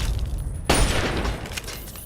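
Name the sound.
explosion in video game Fallout 3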